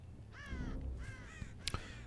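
Crows cawing in the Dead by Daylight video game, used by the killer The Artist: a series of harsh, repeated caws in two main bursts, then a sharp flutter-like crack near the end, over low game ambience.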